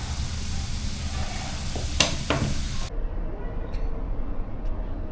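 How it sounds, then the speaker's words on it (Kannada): Cut carrot pieces fry slowly in hot oil with a steady, soft sizzle, joined by a couple of brief scraping stir sounds partway through before the sizzle continues more quietly. "ಕ್ಯಾರೆಟನ್ನು ಸಹ ಈ ರೀತಿ ಕಟ್ ಮಾಡಿ ಎಣ್ಣೆ ಒಳಗಿಡಿ. ಇದು ನಿಧಾನಕ್ಕೆ ಫ್ರೈ ಆಗಲಿ."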